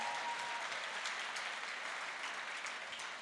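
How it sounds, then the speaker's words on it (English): Gala dinner audience applauds for guest Anna Navarro, a dense, steady wash of many hands clapping across the whole stretch, fairly distant and slowly easing off at the end. "Let's give Anna Navarro a round of applause."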